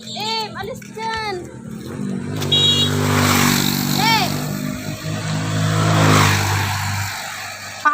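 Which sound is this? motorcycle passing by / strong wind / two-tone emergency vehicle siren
motorcycle passing by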